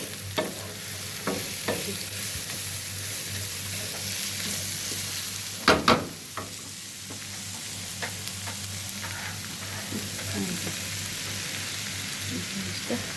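Meat pieces sizzle steadily in a hot pan, a constant close frying hiss with occasional stirring clicks and a pair of sharp scraping knocks midway.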